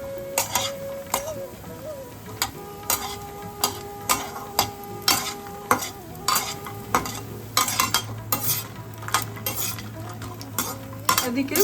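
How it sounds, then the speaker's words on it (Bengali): Urad dal bori, small lentil dumplings, fry in hot oil in a home kitchen, with a soft steady sizzle under frequent sharp clinks and scrapes of a spoon stirring against the pan. "আমি এবার কলাইয়ের ডালের বড়ি ভেজে"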